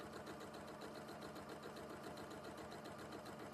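A sewing machine runs steadily close by, its motor whirring with a fast even stitching rhythm, quiet and continuous for a few seconds with no talking over it.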